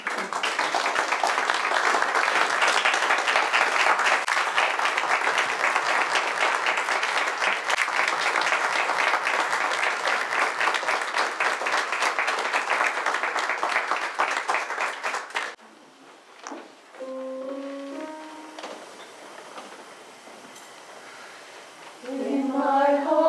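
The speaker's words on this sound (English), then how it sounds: "Great round of applause." Audience applause at a concert honoring a man before a choir sings, sustained rapid clapping for about fifteen seconds that cuts off, followed by quieter sounds and a few sung or spoken tones.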